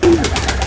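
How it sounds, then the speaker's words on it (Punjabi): A pigeon kept in a home loft gives one short, close, loud coo. "ਇਹ ਹੁਣ ਆਹ ਲੱਕੀ ਜੀ ਕਬੂਤਰੀ ਜਿਹੜੀ ਘਰਾਸਾਂ ਦੀ ਜਿਹਦੇ ਨਾਲ ਦਾ ਨਰ ਮਰ ਗਿਆ"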